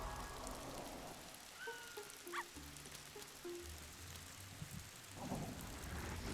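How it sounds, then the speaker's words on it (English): A haunted hail power in the video game Ghost Master rattles down as a soft patter of rain with faint distant rumbles, low and quiet beneath scattered game effects, with no voices. "Then do some haunted hail, because fuck it, we have fish just flying from the sky."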